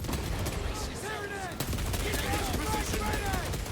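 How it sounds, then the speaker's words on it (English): A Heavy Bolter fires in Space Marine 2, rapid heavy automatic bursts hammering almost without pause, loud and close beneath creature shrieks and battle noise, with a voice talking over it. "Including heavy weapon pickups like my favourite Heavy Bolter"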